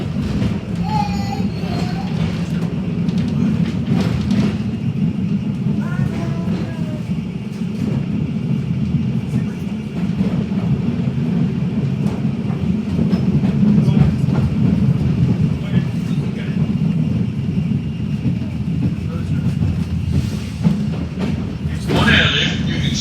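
A Bendigo tram runs steadily along its tracks, with a continuous loud rumble of wheels and motor throughout and a brief metallic squeal near the end.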